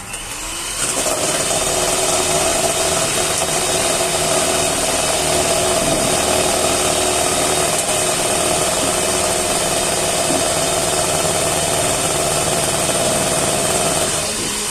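Electric mixer whipping eggs and sugar at high speed, a steady loud motor whine with a constant drone running from start to finish, no talking.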